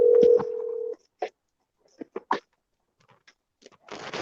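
A telephone line gives a steady dial tone, followed by a few short, separate dialing beeps and clicks, ending in a burst of hiss. The sounds are close and fairly quiet, with no talking.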